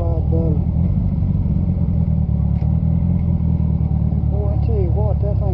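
Honda GL1200 motorcycle engine droning steadily while riding, with rising and falling pitch as it shifts down, loud and continuous; a voice talks over it.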